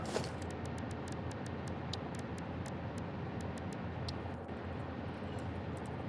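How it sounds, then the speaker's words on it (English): Inside a Satisfactory factory-building game session, a steady broadband rumble of snow sliding and melting off a roof fills the background, dotted with faint repeated high ticks and no talk. "that might be snow melting off the roof or something"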